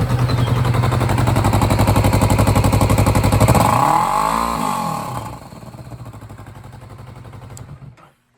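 A 2020 Kawasaki Vulcan S Cafe motorcycle engine runs close by with a steady throbbing idle. Partway through it swells into a brief rev, then settles back and fades out.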